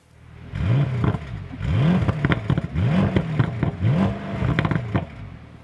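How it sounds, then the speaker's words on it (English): Bentley Continental GT convertible power windows rising, four successive electric motor whirs that climb then level off, each ending with a click, close and clear without talk. "The windows go all the way up."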